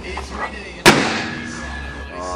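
A homemade apple cannon fires once outdoors on a farm, a single sharp, loud boom that decays into a brief rumble against a quiet, breezy background.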